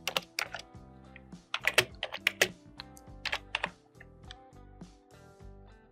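Keys clatter on a computer keyboard as text is typed, quick bursts of crisp clicks separated by short pauses, close and fairly quiet.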